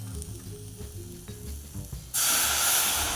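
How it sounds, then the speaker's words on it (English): Hot pan of onions erupts into a loud, steady sizzle as white wine hits it partway through, after a stretch of quieter cooking noise and faint clinks. "I'm just gonna deglaze with a little bit of white wine"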